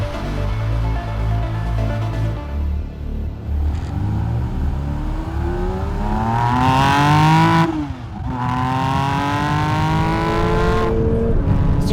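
A Porsche 911 ST with a GT3 RS engine driving hard: the high-revving flat engine climbs steadily to a loud, piercing wail, drops sharply at a gear change, then screams upward again, all close and without talk.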